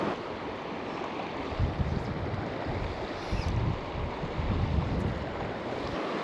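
Steady wind beside a river during a fly-fishing trip in Buena Vista, heard as a constant rough rush with low buffeting gusts against the microphone and no voices.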